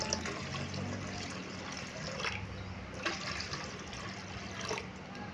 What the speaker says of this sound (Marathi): आणि आपल्याला घालायचं आहे याच्यात पाणी.